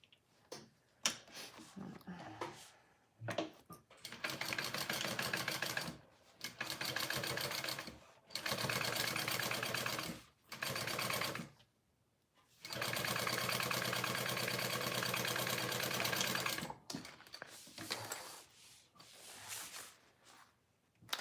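A sewing machine runs top stitching in repeated bursts of rapid, even mechanical whirring, several long runs separated by pauses, with someone talking between them.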